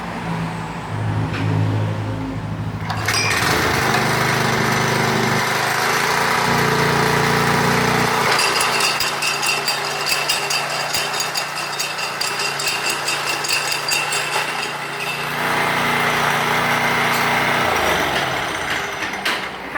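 An old Japanese Robin PR200 walk-behind tiller engine runs loud and close, a rough rattling drone that shifts pitch and load several times as it works.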